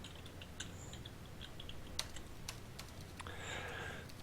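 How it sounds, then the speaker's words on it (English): Soft, fast typing on a computer keyboard continues steadily under a constant background hiss, with a few sharper key clicks standing out near the middle. "Yes, I'm still typing away over here."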